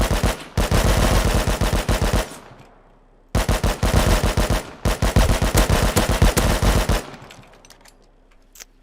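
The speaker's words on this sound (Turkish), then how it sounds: "Böyle keleşin sesini özleyeceğiz ama ha." AK rifle on full auto in the Rust survival video game, firing two long sustained bursts of rapid, loud shots separated by a brief pause, then a short tail of scattered faint reports, with no talking.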